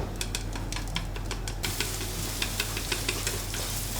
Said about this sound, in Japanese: まずはにんにく生姜炒めましょう